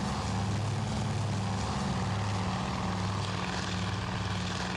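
Propeller-driven torpedo bombers drone steadily in a naval combat game, a loud continuous engine hum with a low throbbing tone and no voices.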